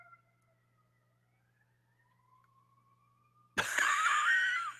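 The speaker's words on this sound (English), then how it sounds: "Some sirens." A faint, distant wailing siren drifts in a thin tone, then a sudden loud burst of broadband noise takes over near the end.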